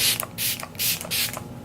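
Fix Plus setting spray hisses out in four short pumped bursts, each a close, bright mist spray separated by brief clicks of the nozzle.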